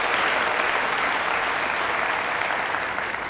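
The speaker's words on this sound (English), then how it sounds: "Let's give yourselves a round of applause." Graduates at a university commencement ceremony applaud themselves, a dense, even roar of clapping from a large crowd that holds steady throughout.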